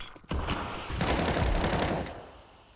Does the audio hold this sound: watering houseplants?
no